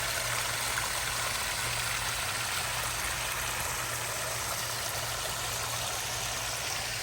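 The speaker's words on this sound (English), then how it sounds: "This is my first ever waterfall." Water pours steadily over a rock waterfall into a fish pond, a dense, unbroken rushing wash close by, with a low steady hum running underneath.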